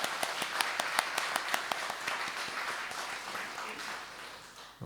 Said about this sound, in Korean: 우리 좋으신 하나님께 감사의 박수 드릴까요?